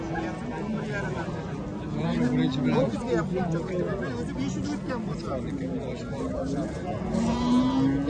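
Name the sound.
sheep bleating at a livestock market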